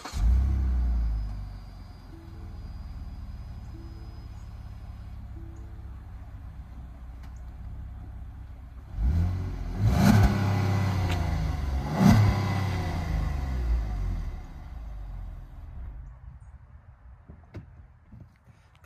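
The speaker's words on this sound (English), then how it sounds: "We'll go ahead and show it starting up from the outside, show the reverse lights, and give it a few revs." A 2018 Lincoln MKX is heard from outside as it starts, settles into a low idle, then takes two distinct revs of the engine before returning to idle and fading.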